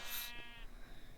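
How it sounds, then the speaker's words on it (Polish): A sheep in the video game Minecraft bleats loudly at the start, a brief wavering call, followed by quieter background noise with a faint thump near the end. "Nie strasz mnie tak owco."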